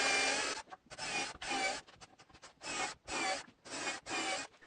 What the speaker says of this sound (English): I start by drilling pilot holes for the screws.